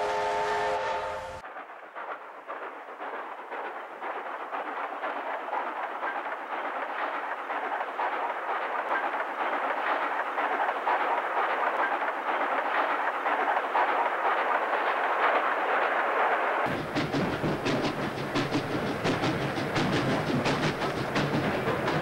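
A steam train on an excursion along the Inner Circle Railway rumbles steadily along the track with continuous clatter, loud and close, and a brief whistle-like tone at the start before the sound shifts near the end.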